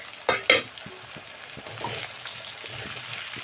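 Chopped tomato pieces go into a hot pan and are stirred, with two sharp clatters of a utensil at first, then a soft, steady sizzle of frying under light scraping, close and fairly quiet.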